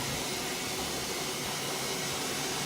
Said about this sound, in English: It's spinning, it's draining.